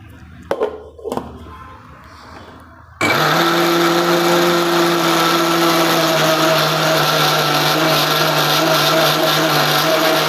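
A blender grinds raw peanuts for ladoo, starting abruptly after a few seconds of faint knocks and handling noise, then running as a loud, steady, whirring motor drone until the end.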